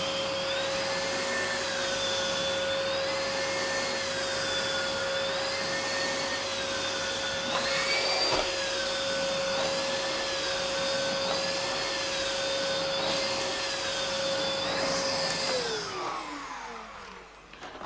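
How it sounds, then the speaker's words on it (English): Philips 2000 Series vacuum cleaner running on high suction with the turbo tool fitted, a loud steady motor drone with a whining tone that holds for about fifteen seconds, then winds down as it is switched off. "Let's try the turbo tool. We'll turn the suction right up for that."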